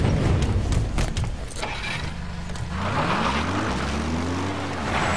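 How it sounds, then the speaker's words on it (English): Support helicopter arriving in Metal Gear Solid V: The Phantom Pain, a steady rotor and engine roar filling the clip with rising and falling tonal whine, loud and continuous with no talk over it. "Support helicopter requested."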